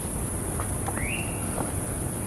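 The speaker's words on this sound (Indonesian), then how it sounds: "Kalau yang itu burung." A single bird gives a short rising whistled call high in the pine trees on Mount Tidar, heard at a moderate distance over a steady insect-like drone and forest hiss.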